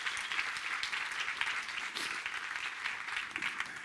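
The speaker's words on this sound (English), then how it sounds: "Can we have another round of applause for them?" A conference audience claps at a data science festival talk. The applause is dense and continuous, steady and moderately close, with no voices over it.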